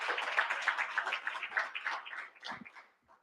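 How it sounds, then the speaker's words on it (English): An audience claps for a CEO at a wellness event, a dense, lively patter of many hands that stays steady for a few seconds before thinning out and fading. "let's give him a round of applause"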